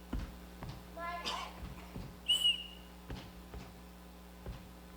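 A sharp whistle signal rings out on stage during a high school spring musical performance of The Sound of Music, blown to call the children, amid scattered footsteps and room noise.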